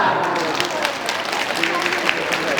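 Steady applause from a crowd at a pedigree cat show in a shopping mall, a dense wash of clapping that holds evenly throughout the short stretch.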